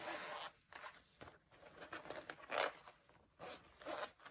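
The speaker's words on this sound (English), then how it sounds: "Now you want to just unzip your zippers here." Zippers being unzipped on a sewn fabric bag during a sewing tutorial, several close, raspy zipping strokes in quick succession with short pauses between pulls, no talking.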